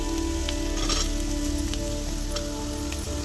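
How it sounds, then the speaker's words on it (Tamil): Carrots sautéing in a pan for roadside-style egg noodles, giving a dense, continuous sizzle close up with faint stirring ticks and no voices. "கேரட்டை போட்டு அதே போல் வதக்கணும்"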